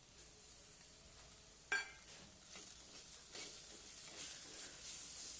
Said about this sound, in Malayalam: ഇനി നമുക്കിതിലേക്ക് തക്കാളി ചേർത്ത് കൊടുക്കാം